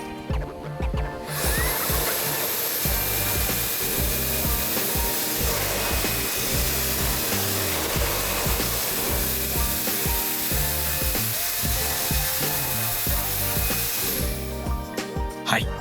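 A loud, continuous rush of blown air from a Makita cordless air duster blowing water off a car grille roars steadily for about fourteen seconds, cutting off abruptly at the end.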